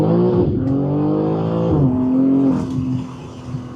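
A 2023 BMW M3 Competition with a 3-liter inline-6 revs hard, its engine note climbing and dropping through several rises, loud and close with no talk.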